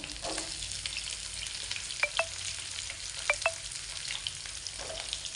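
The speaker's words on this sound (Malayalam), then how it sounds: "കരിയാപ്പിലയും ഇഞ്ചി വെളുത്തുള്ളി ഇട്ട് കൊച്ചുള്ളി ഇടുവാണ്." Shallots fry in oil with curry leaves, ginger and garlic, giving a quiet, steady sizzle broken by a few sharp clinks of a stirring utensil against the pan.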